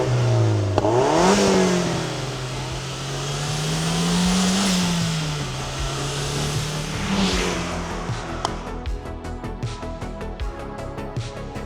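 A Toyota MR2 Turbo mid-engine sports car revs up hard to 7,200 RPM, the engine note climbing, holding and rising again before dropping off into lighter idle-like rumble, loud and close with no talking.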